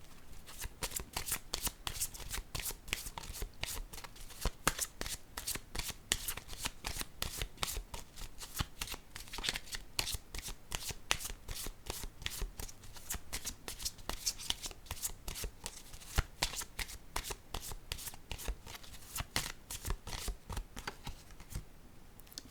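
Tarot cards are shuffled by hand in a fast, continuous run of crisp riffles and slaps, close and fairly quiet, with no voice over them.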